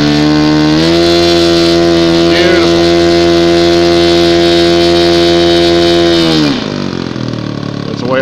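Engine of an Ace RC Bingo model airplane idling close by, a loud, steady buzzing drone with a rich harmonic whine that drops off near the end as the engine cuts.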